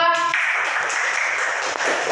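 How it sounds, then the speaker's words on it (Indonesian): A classroom audience claps for a student group after their teaching presentation, a steady, dense wash of applause filling the room from start to finish. "Beri tepuk tangannya untuk kelompok 2."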